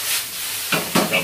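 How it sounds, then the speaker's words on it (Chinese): Minced garlic stir-frying in a wok over high heat, a brief sizzling hiss with a couple of quick scraping stirs. "炒香啲蒜蓉得噶啦"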